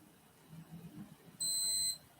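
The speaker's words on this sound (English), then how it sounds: "There goes that beep." A single sustained electronic alarm beep, bright and steady for about half a second, rings out clearly over faint room noise as a smoke-detector-style chirp repeats.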